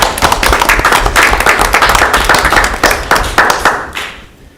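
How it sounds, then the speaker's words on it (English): Audience applause at a community roundtable meeting, a lively mix of sharp individual claps from a modest crowd, loud and close, tapering off and fading out at the end. "he deserves a big round of applause from you"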